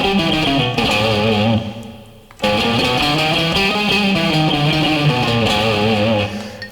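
An overdriven electric guitar plays an A harmonic minor scale in a rapid run of distorted single notes, breaking briefly midway before resuming, loud with no voices.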